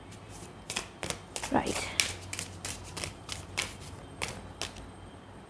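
Tarot cards shuffled and handled in a series of quick papery riffles and snaps, close and fairly crisp, with a brief spoken word partway through.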